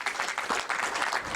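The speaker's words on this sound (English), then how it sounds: "Another round of applause." Audience applause after a block of short nature films at a screening Q&A, a dense steady wash of many hands clapping close and fairly loud.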